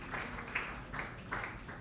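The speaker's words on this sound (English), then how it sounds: "Please let's clap for the organizers of" Faint, distant clapping from an audience at the YOMA Ghana launch event, a soft patter rising in a few short swells over a room hum.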